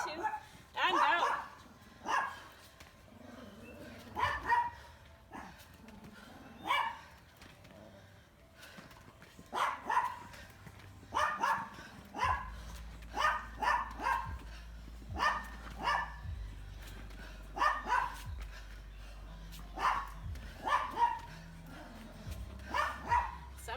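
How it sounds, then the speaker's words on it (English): A dog barks repeatedly in bursts from somewhere nearby during a home fitness workout, the yaps spread across the whole stretch under steady talk from an instructor and a low background hum. "Somebody shut their dog up."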